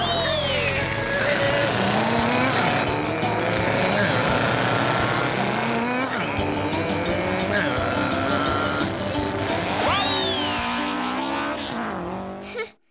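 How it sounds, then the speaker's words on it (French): Race cars racing as a storytelling sound effect, with loud, continuous engine roar, rising revs and tire squeal, cutting off abruptly at the end. "Ils font des grosses courses de voitures."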